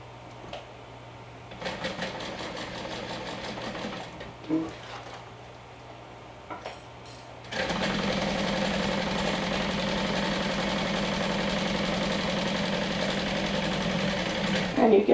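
A sewing machine stitching a zipper placket and lining runs in short bursts at first, then settles into a steady, loud continuous whir of stitching for the second half, close up.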